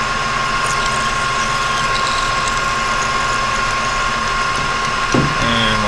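A small metal lathe machining an end cap runs with a steady, loud motor hum and mechanical drone as the cutter plunges in, with a brief shift in tone near the end and no voices.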